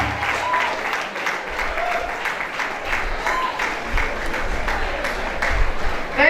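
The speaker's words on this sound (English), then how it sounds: "A round of applause for her" An audience at a World Food Programme event claps steadily, a sustained wash of many hands applauding at moderate loudness for the whole stretch.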